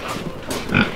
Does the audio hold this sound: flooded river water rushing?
no